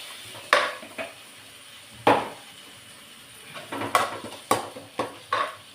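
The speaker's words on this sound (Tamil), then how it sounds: "எல்லாம் நல்லா மிக்ஸ் பண்ணி விடுவோம்." A metal spoon clanks and scrapes in a pan as spiced food with Kashmiri chili powder is stirred and mixed, giving irregular sharp knocks spaced over quiet gaps, with a faint sizzle underneath and no talking.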